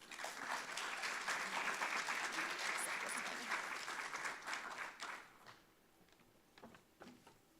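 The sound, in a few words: audience applause for speaker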